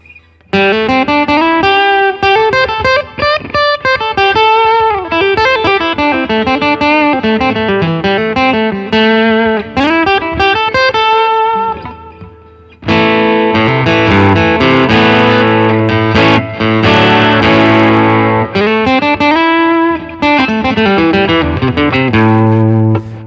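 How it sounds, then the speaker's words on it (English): Acoustic guitar played through a Fender Tone Master Pro with Klon drive, Fender Twin amp, delay and reverb: crunchy overdriven strummed chords and melodic runs with a gritty distorted edge, loud and continuous with a brief pause midway. "a pretty nice crunchy tone coming from an acoustic guitar"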